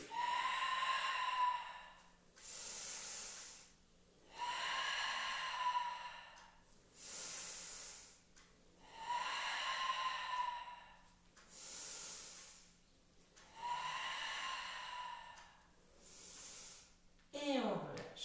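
Slow, deep breaths during a Pilates ball exercise, long airy inhales and exhales alternating in a steady rhythm of about six cycles, close and fairly quiet, with a faint steady hum underneath.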